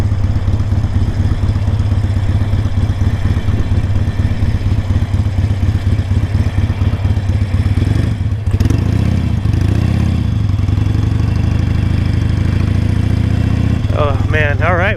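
A Harley-Davidson motorcycle rumbles loud and close while riding through Bike Week in Daytona Beach, Florida, its deep pulsing exhaust steady throughout, briefly shifting in pitch midway, with a rider's voice talking over it.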